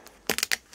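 An overlay sticker being peeled off a hot tub topside control panel with a knife, heard as a short cluster of close, crackly tearing and scraping sounds.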